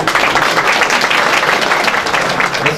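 Loud, dense applause from a crowd at a cultural gathering in Çameli, Denizli, held steadily at close range with no voices over it.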